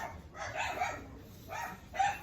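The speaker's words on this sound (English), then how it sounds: "The dogs are very excited. Let's take a bark break and clean up." Excited dogs bark indoors in three short bursts of yips and barks, moderately loud and fairly close, with brief pauses between.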